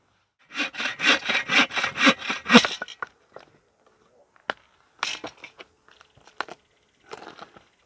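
A handsaw cuts wood at a campsite on an island, about a dozen rhythmic rasping strokes up close, then stopping, followed by scattered clunks, snaps and handling of the cut pieces.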